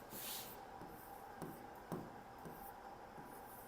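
A pen or stylus scratching across the glass of an interactive flat panel display in a classroom, a faint, continuous rubbing with a few soft taps, close and alone.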